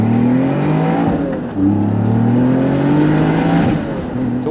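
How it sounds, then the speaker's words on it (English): Twin-turbocharged Mezger flat-six in a Singer-reimagined Porsche 911 Classic Turbo with a manual gearbox, loud and close as it pulls through the revs, with a brief dip and gear change partway before climbing again. "the twin turbocharged Mezger flat six in the rear of the car"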